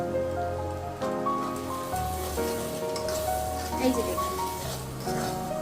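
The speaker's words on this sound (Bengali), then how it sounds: "পেঁয়াজটা ভাজা হতে থাক" Onions frying in oil with salt and turmeric for a potato chicken curry, a steady soft sizzle and crackle running the whole time beneath a sustained musical tone.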